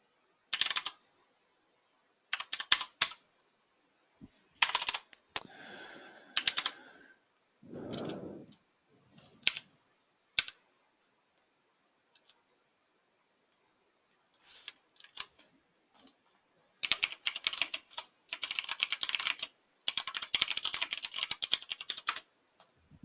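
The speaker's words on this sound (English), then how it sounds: "you just start typing numbers as you're creating a" Bursts of typing on a computer keyboard as numbers are entered into SketchUp measurements, quick clustered keystrokes separated by pauses, with a few drawer-like or mouse handling noises in between, close and moderately loud, no talking.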